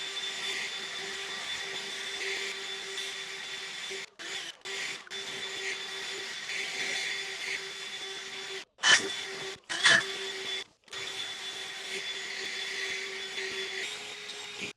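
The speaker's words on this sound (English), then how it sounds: "So it's best to get all the big stuff out that you can with the blower." A blower clearing dirt from a garage floor gives a steady, loud whooshing drone with a constant motor hum, broken by several brief cutoffs and surges, with no talk.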